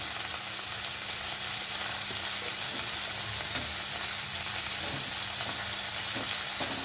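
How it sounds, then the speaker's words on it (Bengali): Okra (bhindi) stirred and frying in a pan, a steady close sizzle with occasional soft scrapes of the spatula, continuous and without talk. "ভেন্ডিগুলো একটু নাড়াচাড়া করে নিচ্ছি"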